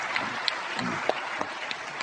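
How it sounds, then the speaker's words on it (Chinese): An audience applauds to welcome two guests onstage at a lecture-hall dialogue about reading: steady, moderately loud clapping that stays even for about two seconds, with a few sharper individual claps standing out. "下面请大家用掌声有请两位嘉宾"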